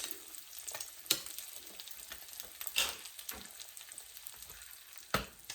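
An egg fries in a pan for a keto breakfast sandwich, giving a steady soft sizzle with scattered sharper crackles and pops, close and moderately quiet, with no one talking.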